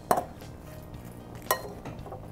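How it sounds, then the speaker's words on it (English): A spoon stirs a fruit salad with blueberry balsamic dressing, giving two sharp clinks against the dish about a second and a half apart, with a soft, quiet shuffle of fruit in between. "get a spoon over here and a plate back here, and just stir that all together"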